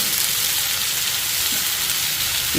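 Bitter gourd curry frying in a pan, with a loud, continuous close-up sizzle and crackle of hot oil and occasional faint stirring.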